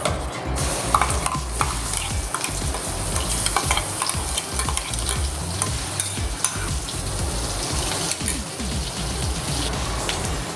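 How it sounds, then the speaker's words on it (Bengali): Spice paste drops into hot oil left from frying prawns and crackles in a loud, dense, continuous sizzle with stirring throughout, close by and with no talking. "এবার এই তেলের মধ্যেই আমি যে পেস্টটা করেছিলাম সেই পেস্ট দিয়ে দিচ্ছি"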